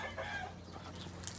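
Hens with half-black, half-white plumage cluck and murmur close by in a steady, overlapping stream, with a brief sharper call near the end.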